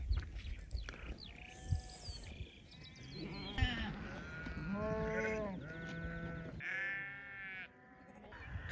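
A flock of sheep on a farm bleating repeatedly, several overlapping calls near and far, fairly loud and continuous over an outdoor background, with no talking.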